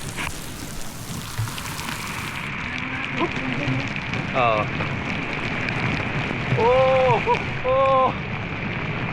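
Rain falls steadily as a broad hiss, with a few brief exclamations and a short chirping sound over it.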